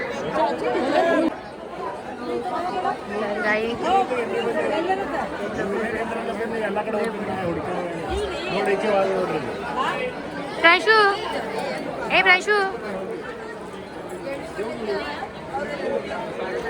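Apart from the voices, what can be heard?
crowd chatter at Jejuri temple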